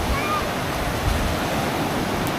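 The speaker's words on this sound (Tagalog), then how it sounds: "Kaso medyo malalaki ang alon." Large sea waves washing onto the shore, a steady broadband rush of surf, fairly distant and moderately loud, continuous without clear breaks.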